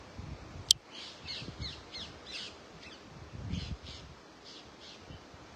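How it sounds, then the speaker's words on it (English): Crows caw outdoors in the morning, a series of rough, evenly spaced calls at moderate distance, with soft rustling in the background and a single sharp click near the start. "The birds are all singing for you here this morning."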